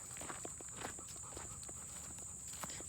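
A horse walks in circles on a farm, its hooves landing in a soft, fairly regular series of thuds. The hoofbeats are faint and sit under a steady high-pitched whine.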